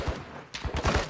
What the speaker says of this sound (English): I'm getting shot at by somebody